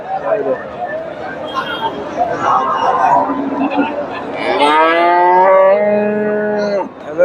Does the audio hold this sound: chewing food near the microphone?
no